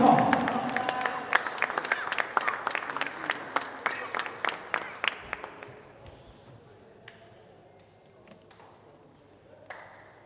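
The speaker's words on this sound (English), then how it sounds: "Come on, let's give them a round of applause." Applause at a South African Indoor Football Association National Futsal League event: a burst of crisp, fairly close clapping that thins out into a few scattered claps and quieter room noise toward the end.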